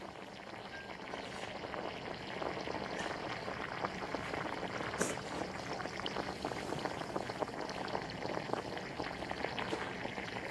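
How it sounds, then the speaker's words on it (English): Small pieces of banana pulp fry directly in hot oil, giving a dense, continuous crackling bubble that stays even and moderately faint for the whole stretch, with no voices. "banana pulp is cut into small pieces without grinding and fried directly in"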